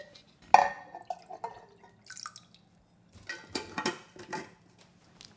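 Fermented radish water kimchi broth being poured during Dongchimi preparation, with a splashy start followed by intermittent drips and trickles, close and fairly quiet, no talking.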